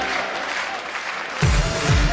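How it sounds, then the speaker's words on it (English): A darts crowd at the 2012 World Masters applauds after Martin Adams is knocked out in the first round by Rune David. The steady applause fills the hall and grows louder and fuller partway through. "Applause from the crowd"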